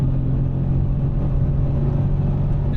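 A Subaru BRZ track car at light throttle on an F1 racing circuit, its engine giving a continuous, even low rumble from inside the car, close and unbroken.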